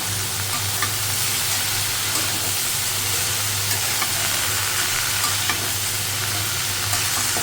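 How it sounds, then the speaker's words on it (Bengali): Vegetables fry with spices in a hot pan, a dense continuous sizzle that stays loud and close throughout, with faint scrapes of stirring and no voices. "তো সেই সবজিটা কষানো হয়ে গেছে"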